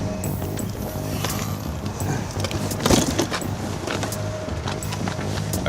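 Car keys jangle and clink in a brief metallic rattle over a low background hum, the loudest burst near the middle.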